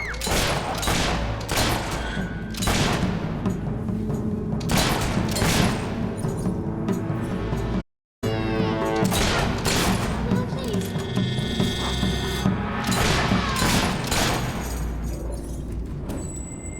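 Rapid bursts of gunfire, loud sharp cracks repeating in clusters with dense rattling stretches and booming impacts, broken by a brief silent gap, with voices mixed in among the shots.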